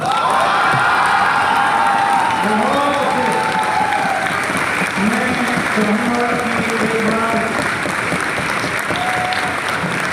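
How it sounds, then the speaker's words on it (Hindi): A large crowd applauds steadily and loudly throughout a national poetry recital at Vigyan Bhavan, with scattered cheers and shouts rising over the clapping. "आपकी तालियों की ये ध्वनि"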